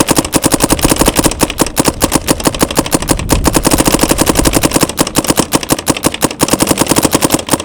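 A Dye M3s paintball marker firing in fast, continuous bursts, its sharp pops running together into a dense, loud rattle that barely pauses for the whole stretch, with no voices.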